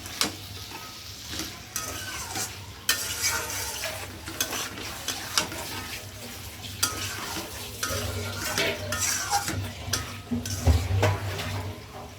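Meat for khichuri sizzles in a pot while a spoon stirs it, producing repeated clinks and scrapes against the metal over a steady frying hiss that swells and fades across the stretch.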